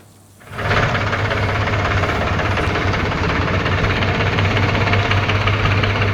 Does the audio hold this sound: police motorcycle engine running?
yes